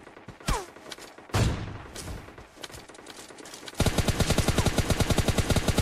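M4 rifle gunfire in a video game: scattered shots early, then from about four seconds a loud, steady rapid burst of automatic fire to the end.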